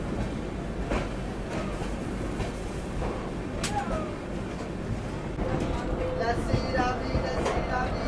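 An Anand Vihar–Bhagalpur LHB Garib Rath Express pulls out of a station, a steady broadband rumble of moving coaches with a few faint wheel squeals and clicks rising near the end, talk mixed in.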